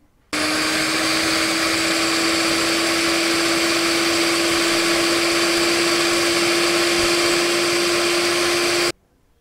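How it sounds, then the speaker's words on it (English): An electric mixer beats butter and sugar until creamy for eggless atta jam biscuits, a loud, steady whirring motor hum at medium speed that starts abruptly and runs unbroken for about eight seconds before stopping. "For this recipe, I'm beating the butter and sugar until creamy."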